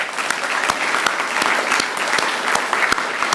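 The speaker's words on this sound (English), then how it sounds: "let's give all of you applause, and Dr. Ramage, especially you" An audience at a 2024 security conference claps steadily, a close, even patter of many hands sustained throughout with no speech over it.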